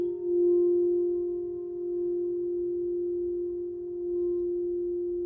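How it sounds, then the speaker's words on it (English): A crystal singing bowl tuned to F rings with a single pure, sustained tone that hums steadily and slowly swells and fades, alone and fairly close. "That's an F bowl."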